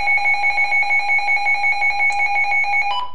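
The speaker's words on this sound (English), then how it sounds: "Here's what it sounds like when the alarm goes off." A Midland WR100 weather radio alarm sounds a loud, steady electronic tone with a pulsing rhythm, close by and alone, shifting pitch briefly near the end.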